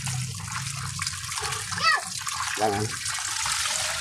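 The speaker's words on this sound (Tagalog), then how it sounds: "Hugasan muna natin yan mga idol." Garlic cloves washed under running tap water, with a steady stream and brief splashing as the cloves are rinsed, and a short spoken word in between.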